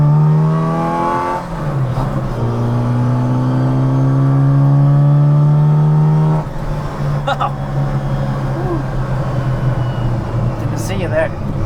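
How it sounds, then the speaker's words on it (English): A Mini Cooper hot rod with an RCM exhaust accelerating hard from inside the car, a loud raspy engine climbing through the revs, a brief dip at a gear change, then another long pull upward before settling into a steady roar. "the Cooper S disc brakes, super fins on the rear, and this killer RCM exhaust"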